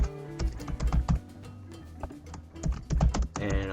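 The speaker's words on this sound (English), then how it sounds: "And I'll type that in there" Typing on a computer keyboard while entering a shop category name: irregular bursts of close key clicks and clacks, pausing briefly in the middle, with no talking.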